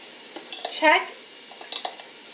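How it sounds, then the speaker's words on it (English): A spoon stirs pasta sauce in a pot on the stove, giving a few close, light scraping clinks against the metal, with soft clicks scattered before and after. "don't forget to stir it. Using a different spoon,"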